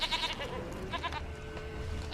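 A goat in a video game bleats in a few wavering, nasal cries over a low background hum, with no talking.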